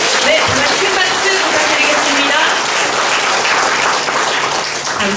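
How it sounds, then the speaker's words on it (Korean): A large audience at an evening event gives loud, dense applause for volunteers, a continuous roar of clapping that fills the room without letup. "저희 나순 봉사자들에게 큰 박수로 응원해 주시기 바랍니다."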